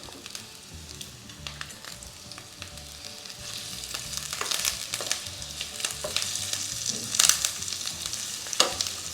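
Ginger, green chillies and curry leaves with onion sauté in a hot pan, a continuous sizzle that builds louder toward the end with sharp crackles and pops near the close.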